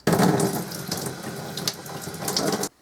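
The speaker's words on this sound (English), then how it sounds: "Let's see what comes out when I run water through it." Water gushes from a tap through a Jupiter trombone tube into a sink in a steady, loud, close rush that cuts off abruptly at the end.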